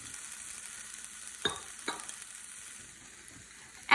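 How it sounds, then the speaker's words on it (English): Chopped potatoes, carrots, bell peppers and onion sizzle in a hot soup pot, a steady frying hiss broken by a couple of stirring scrapes and a sharp clatter at the end. "Once you hear the sizzling sound"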